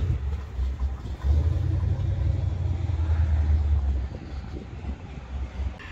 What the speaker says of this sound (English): This is a 66 Chevelle.